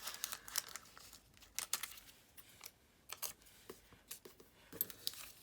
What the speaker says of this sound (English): So we're just going to cut random shapes.